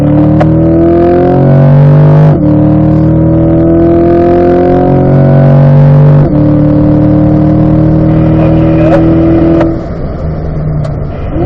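A race car engine on a track at full power, loud and close, its pitch climbing through gear changes with brief dips between pulls and no talk over it.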